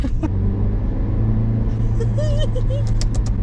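A car driven with its roof and windows opened wide, its engine rumbling steadily and close throughout, with faint whistling tones rising briefly near the end.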